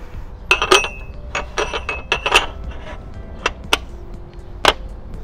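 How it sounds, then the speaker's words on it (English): Metal parts clink and tap while a tripod head is fitted onto a camera car mount, with a series of sharp, close, ringing knocks spread irregularly across a quiet room. "Now it's time to mount the tripod head."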